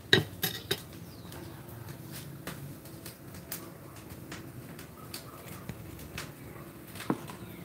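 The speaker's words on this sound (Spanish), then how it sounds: "Estoy cortando ahora la cebolla" Knife chopping an onion on a board at an outdoor asado in Piriápolis, Uruguay: sparse, light clicking taps scattered across the clip, faint against a steady background hum.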